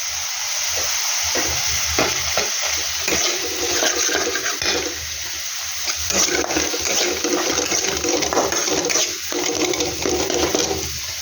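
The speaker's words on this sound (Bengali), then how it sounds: "এটা দেওয়ার পরপরই আমি দিয়ে দেবো এখানে কেটে রাখা টমেটো" Chopped tomatoes hit ground coriander, cumin and chili powder frying in a pan for an egg curry, giving a loud, steady rushing hiss with churning stirring noises throughout.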